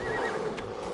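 A horse whinnies loudly and close by in Assassin's Creed Odyssey, a single drawn-out neigh with faint hoof clatter, nothing else in the background.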